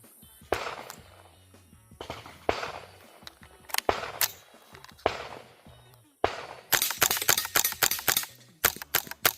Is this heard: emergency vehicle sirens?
no